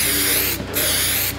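Aerosol spray hissing steadily inside a car cabin during a suede interior wrap, two continuous bursts with a short pause between them, loud and close with no talking.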